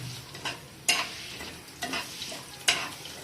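Rice grains frying and being stirred in a pan with whole cumin for a Bengali fish curry, giving a steady soft sizzle broken by a few sharp scraping stirs, close and fairly quiet with no talk.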